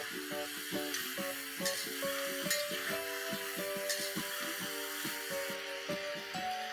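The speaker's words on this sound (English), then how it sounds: "I'm going to add a tablespoon of ginger paste, a tablespoon of garlic paste, and I'm going to fry this for another 2 to 3 minutes" Chicken frying with ginger and garlic paste for a Mughlai chicken korma, a steady close sizzle under repeated stirring and scraping, with no voices.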